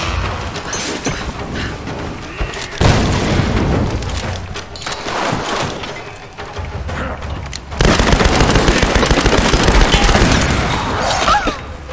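Repeated explosions and crackling blasts from the Tomb Raider video game roll on loudly and continuously, swelling in bursts with dense rumbling booms and no pauses.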